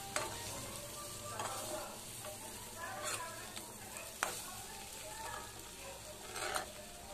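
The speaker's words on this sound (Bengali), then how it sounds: "দেখুন আলু কষতে কষতে বাদামি কালার হয়ে এসেছে" Potatoes sauté in a pan until browned, giving a quiet, continuous sizzle broken by several scraping stirs at intervals and one sharp tap near the middle. The sound is faint but close, and no one speaks.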